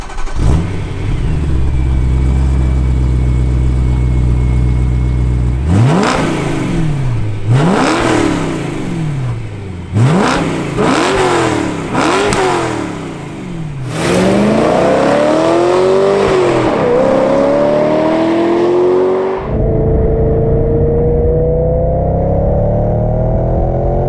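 A manual BMW M3 E92 engine revs up repeatedly through several gear changes, rising and dropping in pitch, then settles into a steady lower drone; loud and close.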